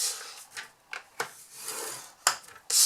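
A tool drawn along cardstock to score fold lines for a box, heard as a handful of short scraping strokes spaced irregularly, close and fairly quiet, with no voices.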